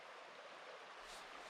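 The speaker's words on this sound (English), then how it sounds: "beautiful river flowing. Lulls me to sleep." A river below a campsite flows with a steady, soft broadband rush, faint and distant, unbroken for the whole moment without any voices.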